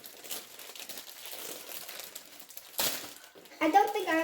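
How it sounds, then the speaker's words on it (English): A paper bag of Ghirardelli brownie mix powder is torn open with close, scratchy crinkling and rustling, followed by a brief voice at the end. "So, I'm going to open this bag for the powder."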